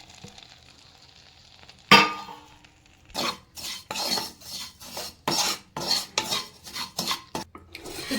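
Vermicelli kunafa is stirred into melted butter in a pan. A sharp clatter comes first, then a pause, then a run of close, rhythmic scraping strokes with a faint sizzle underneath.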